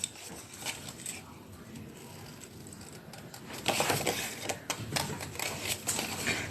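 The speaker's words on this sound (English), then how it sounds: "Let's fussy cut that one and add that to the front" Scissors fussy-cut a paper flower for a handmade card front, giving a run of crisp close snips and paper rustles that grow busier and louder in the second half.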